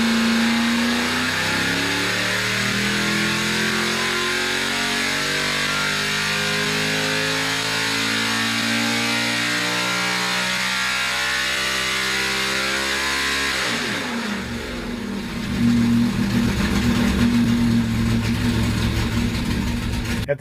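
A 305 small block Chevy V8 revs up and down in a series of sweeping, rising-and-falling pulls, then settles into a loud, lumpy idle, heard close with no talking.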